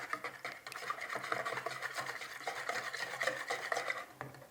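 Potato bun dough being stirred in a bowl after an egg is added makes a continuous close scraping and rubbing, with quick rhythmic strokes of even loudness throughout.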